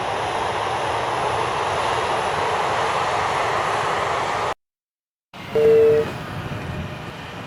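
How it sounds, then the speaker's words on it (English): Steady, loud aircraft engine drone from the video game Air Conflicts: Vietnam, broken by a brief cut of silence before the roar returns with a short tonal whine. "American aircraft inbound."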